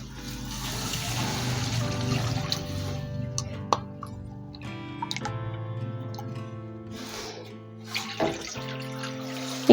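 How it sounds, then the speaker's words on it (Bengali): Two cups of water are poured into a pan of fried spices and turmeric while making Saffola Masala Oats: a steady, close, rushing splash for the first few seconds, then fainter trickles and small clinks. "এখানে আমি 2 কাপ পানি দিয়ে দেব।"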